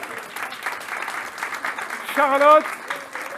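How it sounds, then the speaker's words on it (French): An audience at an artificial intelligence workshop claps steadily for a podium finisher, even applause throughout, with a single voice briefly speaking over it. "Enrico, on l'applaudit, s'il vous plaît."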